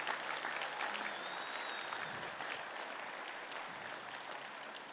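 A large crowd in Hillsboro Stadium gives sustained applause for scholarship students at the 2023 Glencoe High School graduation. The dense, even wash of clapping holds steady throughout, with no talk over it.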